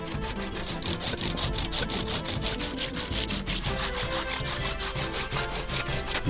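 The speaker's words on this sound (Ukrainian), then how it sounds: "А деревину ця пила розпилює взагалі без труднощів." A heavy hand saw once used in a mine cuts through wood in fast, regular back-and-forth strokes, each rasping pass close and loud in an even rhythm, with no talking.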